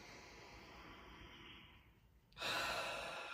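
Slow, audible breathing during a neck and shoulder stretch: a soft, drawn-out breath that swells into a louder, airy exhale partway through, close and alone with no talk.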